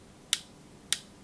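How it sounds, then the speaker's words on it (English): A LEGO cog from a Super Mario Nintendo Entertainment System set clicks against a flexible green tab, two sharp, isolated ticks about half a second apart in quiet surroundings. "that's the sound of it clicking on that green flexible tab"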